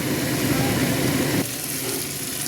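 Fatty mutton and potatoes frying in a pan, a loud continuous sizzle up close, briefly louder before easing slightly halfway through.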